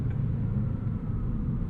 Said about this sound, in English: Nice downshifts here in dynamic mode.